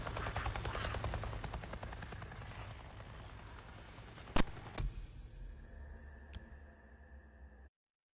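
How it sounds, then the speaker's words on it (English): Helicopter from the Days Gone video game, a steady chopping rotor rumble with fast rhythmic ticks heard at a distance, fading out after sharp impact bangs near the end. "I just saw a goddamn chopper!"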